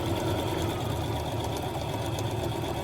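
A sewing machine stitching fabric runs steadily, with the line guided along the presser foot, producing a continuous close mechanical whir and rapid needle rhythm with no pauses.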